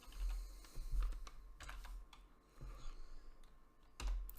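A computer keyboard clatters with short bursts of key presses at an uneven rhythm, close and fairly quiet, with brief pauses between groups of keystrokes and no voices.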